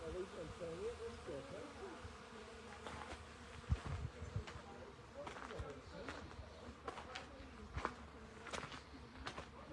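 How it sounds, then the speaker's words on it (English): Bees hum and buzz around white cactus flowers opening at night, a soft, wavering drone with passing individual buzzes, faint and close, under quiet talking and light rustling movement. "listen to the bees there"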